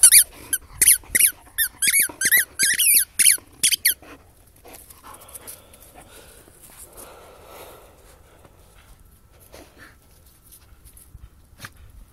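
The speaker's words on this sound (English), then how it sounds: "where'd your squeaky ball go?" A dog's squeaky toy ball squeaks loudly about ten times in a quick uneven series during snowy outdoor play, then stops, leaving faint footsteps, rustling and soft dog movement.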